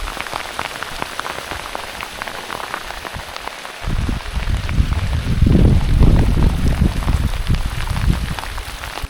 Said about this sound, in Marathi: यार पाऊस येतोय